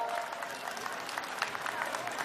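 A crowd claps at a charity big-bike gathering in Nathon, Koh Samui, celebrating a club anniversary: even, fairly soft applause from many people, sustained for the whole stretch.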